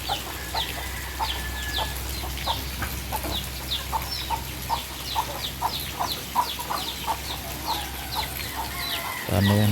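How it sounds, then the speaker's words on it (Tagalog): Chickens cluck steadily in a repeated, close rhythm, with a low hum underneath and a brief thud at the end. "Yung mga manok natin."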